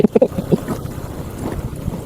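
Low, steady engine rumble of a boat motor running throughout, with a few louder knocks and splashy bursts near the start.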